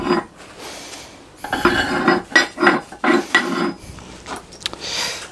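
Metal linkage bars being fitted into a homemade shaper machine, a series of close clinks, scrapes and metallic knocks in irregular bursts, with short quiet gaps between them.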